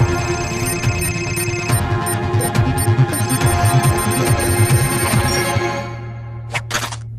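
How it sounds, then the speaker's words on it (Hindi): A phone rings with a repeating electronic ringtone over a low hum, loud and close, stopping near the end with a couple of brief beeps. "देखो तुम्हारे लिए किसी का फोन आया है"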